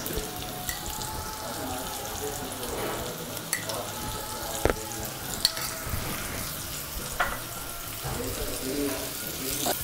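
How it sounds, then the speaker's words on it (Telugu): Stuffed bitter gourd frying in a pan, a close, continuous sizzle with sharp clicks and clinks of a utensil against the pan scattered throughout. "ఇలా ఒక 2 నిమిషాల పాటు వేయించుకుని ఒక సర్వింగ్ బౌల్లోకి తీసుకోవాలి."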